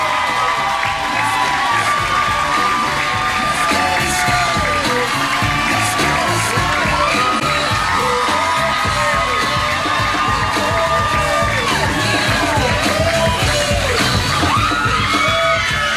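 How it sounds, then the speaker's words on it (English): Wedding guests at a reception cheer, yell and whoop loudly for the wedding party, a dense, continuous crowd roar with scattered shouts sustained throughout. "Give them a round of applause, ladies and gentlemen."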